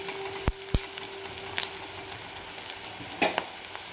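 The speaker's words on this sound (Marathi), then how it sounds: "तर थोड्याशा 2 मिरच्या मी टाकते। 1 मिनिटभर आपण परतून घेऊया।" Green chillies sautéing in a pan, a faint low sizzle with a couple of sharp metallic clinks of a utensil and a brief stirring rustle, quiet and without talk.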